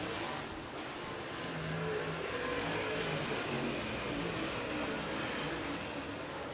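Late model race cars roar around Interstate Speedway at Raceway Park, a dense, continuous engine drone that swells slightly as cars pass, heard from a distance with a commentator's voice running over it.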